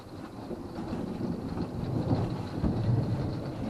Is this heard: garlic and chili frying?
no